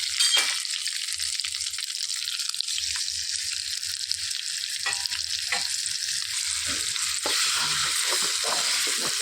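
Fenugreek leaf chutney is frying in a hot oil tempering with curry leaves. It gives off a loud, continuous sizzle, with occasional clinks of stirring and a faint drip of water.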